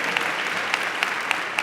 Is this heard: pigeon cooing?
no